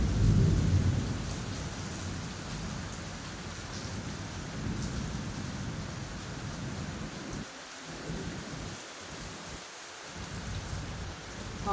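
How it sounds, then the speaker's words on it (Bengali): Thunder rumbles through a heavy monsoon rainstorm at dawn, a deep roll strongest at the start and then fading under a steady, loud hiss of rain, with a few brief dips in the low rumble and no voices. "মেঘের প্রচন্ড গর্জন।"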